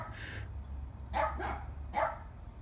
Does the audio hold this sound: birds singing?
no